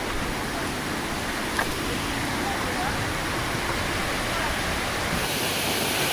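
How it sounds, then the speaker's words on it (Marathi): Water from a small stream pours down a little waterfall, a dense continuous rushing roar, loud and close, with no breaks. "ही जस्ट व्हाळी आहे व्हाळीचा वॉटरफॉल आहे हा धबधबा जबरदस्त"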